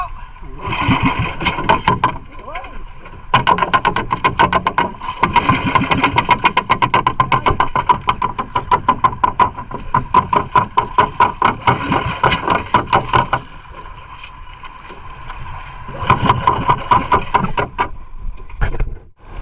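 A fishing boat engine runs steadily with a rapid mechanical chugging, fairly close, while voices talk over it and the motor surges in places.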